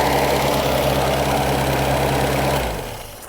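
A 1998 Reliant Robin engine idles loud and close with a steady low throb and faint knocking, running evenly for about two and a half seconds before it is switched off and rumbles down.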